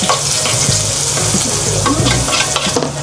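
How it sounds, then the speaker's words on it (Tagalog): Onion and garlic sauté in a pan for saucy pancit bihon, giving a dense, loud, steady sizzle with occasional soft spatula scrapes, close and without talk. "Magigisa naman tayo ng sibuyas bawang."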